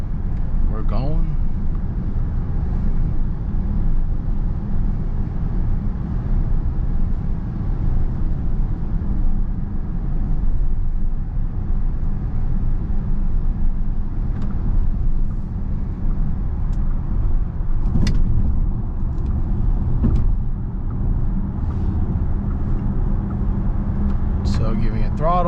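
Inside a 2021 Volkswagen ID.4 rear-wheel-drive electric car accelerating onto a highway, a steady low cabin rumble of road and wind noise runs throughout with a few faint clicks, and a voice talks over it.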